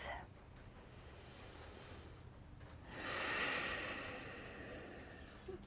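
A deep, slow breath drawn in and released during a yoga practice, soft and close, swelling to an audible hiss of air before fading over a few seconds.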